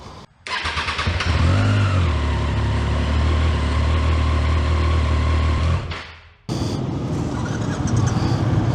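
A 2025 Triumph Speed Twin 1200 RS engine on a test ride through a tunnel, revving loud and close with a rising, sustained roar, a sharp drop and a short gap, then a second strong pull.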